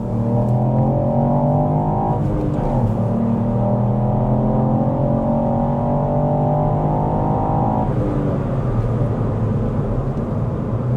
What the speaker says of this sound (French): C'est une petite accélération que tu vois